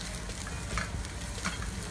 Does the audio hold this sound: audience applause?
no